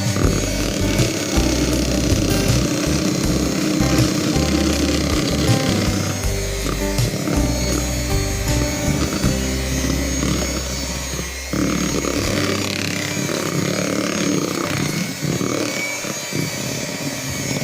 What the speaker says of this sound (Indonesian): Terakhir mixer dengan kecepatan rendah aja.